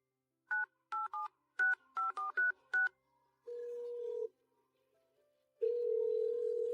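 Telephone keypad tones dial a number in a quick run of about nine short beeps, then a steady tone sounds twice with a silent gap between.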